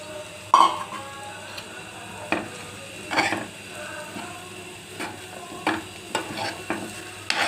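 Cooked rice being turned through a pan with amla, with soft scraping and occasional spoon knocks against the pan over a faint sizzle, close and moderately quiet, no talking.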